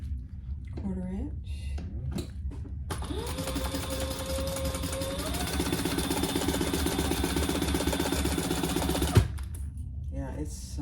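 A sewing machine stitches the bottom seam of a fabric pouch at a quarter-inch allowance, a steady mechanical whirring run of about six seconds between brief bursts, with a voice talking before and after.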